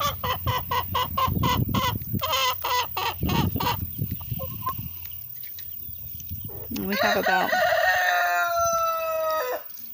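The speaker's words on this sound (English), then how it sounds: "These are some of our backyard chickens" Several backyard egg-laying chickens cluck in rapid rhythmic runs nearby on a farm, followed by a long crowing call toward the end; a person briefly speaks.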